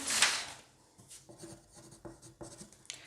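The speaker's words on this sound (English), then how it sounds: "it's just now a case of marking on our pattern to cut 2 of the sleeve, the front" Pen or marker scratching across a paper sewing pattern for a Hawaiian shirt, a few short close strokes in irregular bursts after one louder scrape, with no talking.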